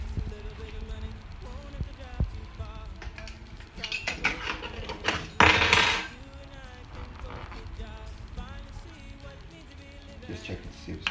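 Knife and utensils clatter against a plate or pot while cooked meat for Bajan souse and pudding is cut open, with a sharp, louder scrape midway among soft kitchen clinks and faint talk.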